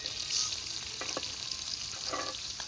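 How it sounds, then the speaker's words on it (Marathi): Chicken liver fries in a pan with a constant close sizzle, broken by a couple of brief scraping stirs. "ए चिव या बाजूला कलेजी भाजायला घे"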